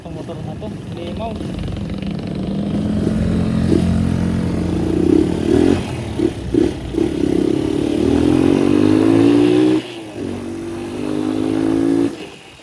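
A Honda XL 200 R motorcycle engine idles, then revs up in a long, climbing pull before dipping and surging again, loud and close with voices mixed in.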